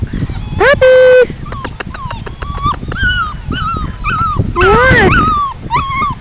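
Puppies outdoors let out a string of high whimpers, yips and short squeals, close and loud, while a person briefly speaks among them.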